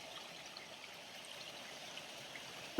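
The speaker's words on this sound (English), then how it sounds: "There's water going over the dam. And it sounds amazing." Water spills over a small dam at a spring-fed swimming hole in Red Rock Canyon after heavy overnight rain, a steady, soft, distant rushing wash that continues evenly throughout, with a brief loud knock at the very end.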